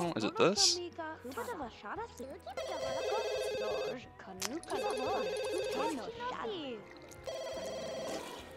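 A telephone in The Sims 2 rings in three repeated electronic trills, fairly clear over game music and effects while a speaker talks in between.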